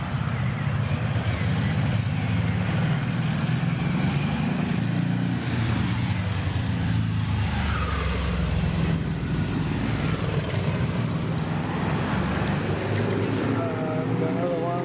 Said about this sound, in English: Oh, there's more motorbikes coming too.